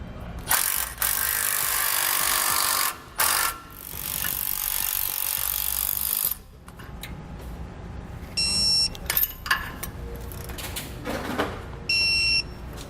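Socket wrench torquing bolts on a motorhome tow bracket: bursts of rapid ratcheting clicks alternate with short pauses, then sparse clicks and brief high metallic chirps, close up and fairly loud.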